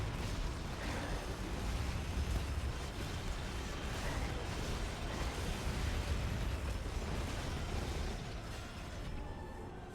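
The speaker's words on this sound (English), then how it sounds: "Just like so many explosions and everything going on." Dense, continuous explosions roar through combat in the video game Bayonetta 2, a loud unbroken wall of booms and crashes layered with mechanical clatter.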